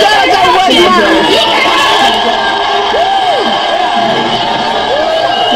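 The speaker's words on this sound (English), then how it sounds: "the crowd is crazy" A Maury TV studio audience whoops, cheers and chatters loudly in a steady, near roar of many voices, with rising and falling yells throughout.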